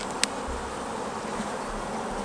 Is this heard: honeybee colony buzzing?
yes